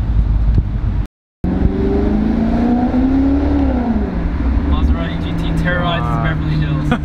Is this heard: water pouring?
no